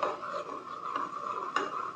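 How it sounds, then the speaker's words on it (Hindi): A spoon scrapes and clinks steadily around a pan of hot hair oil with onion and garlic, a repeated rhythmic stirring with a couple of sharper knocks near the end and no talk. "2-3 और मिनट मैं इसको इस तरीके से हिलाऊंगी"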